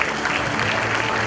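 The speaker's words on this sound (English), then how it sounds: "A round of applause, please." Audience applause fills an award ceremony as the Future Leader Award is presented at a students' conclave in Madurai: a dense, steady wash of clapping from a sizable crowd, held at an even level throughout.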